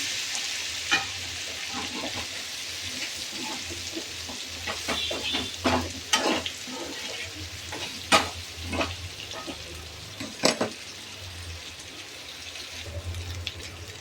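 Turmeric-dusted potatoes fry in oil in a pan with a soft, steady sizzle broken by occasional louder pops and spatters, fairly quiet and close, with no talking.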